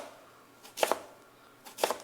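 Sweet potatoes sliced on a bias into burger buns, a knife striking the cutting board in two quick pairs of crisp chops separated by a pause, close and clear with no talk.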